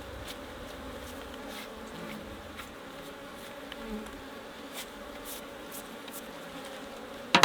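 Honeybees buzz steadily around an opened hive frame while the beekeeper brushes and handles it to collect larvae, a dense insect drone close by with no talking.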